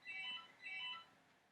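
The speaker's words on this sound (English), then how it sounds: "that's my phone" A mobile phone rings faintly in the background, two short bursts of warbling electronic tone in quick succession, alone without speech.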